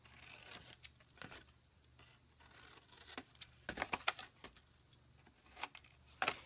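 Scissors snip through the cardboard tabs of a Halloween box, trimming pieces off and cutting angles, with several crisp close cuts and rustles spread across the quiet stretch.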